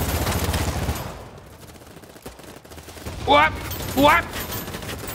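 Gunfire in the shooter game Battlebit Remastered crackles in a dense burst at the start, then two sharp shots ring out near the end while a player talks.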